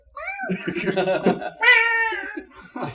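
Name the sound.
person imitating a cat meowing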